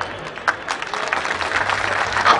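An outdoor crowd at an Adivasi Mahasabha rally gives light, scattered applause. Rapid, uneven claps form a continuous moderate patter with faint crowd murmur.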